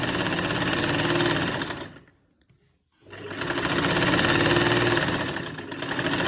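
A sewing machine stitches a kameez seam in rapid bursts, loud and close, with a brief pause in the middle before the steady mechanical whirring resumes.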